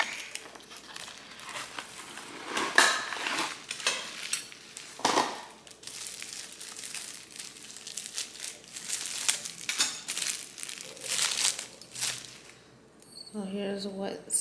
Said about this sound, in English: So, finally got some silverware, but they're gold silverware.